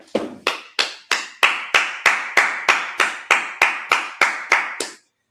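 A group claps in unison at a Sabbath service, about a dozen sharp, evenly spaced claps in a steady rhythm, loud and close, then stopping abruptly.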